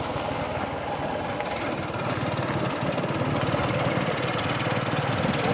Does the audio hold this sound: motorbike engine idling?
yes